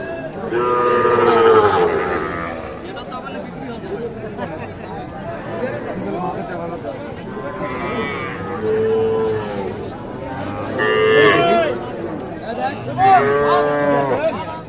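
Calves and young cattle at a livestock market moo repeatedly, several loud drawn-out calls rising over a steady murmur of nearby people talking and crowd chatter throughout.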